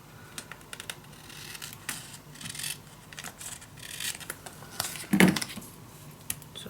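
Scissors snipping paper for a scrapbook album, a series of soft close-up cuts and rustles with one louder crisp snip near the end, no talk.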